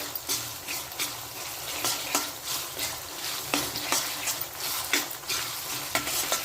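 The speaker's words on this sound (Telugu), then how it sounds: "ఇప్పుడు అల్లం వెల్లుల్లిపాయ పేస్ట్ వేసేసుకుందాం. కొంచెం అటు ఇటు కలిపిన తర్వాత" Ginger garlic paste frying in a pan for Andhra-style spicy chicken fry, a steady sizzle broken by repeated scraping stirs about every half second, close and fairly loud, with no talking.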